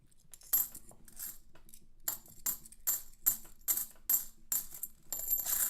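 Half dollar coins spill from freshly opened paper rolls in a series of bright metallic clinking bursts, about eight separate pours spaced roughly half a second apart, close and fairly loud with quiet gaps between.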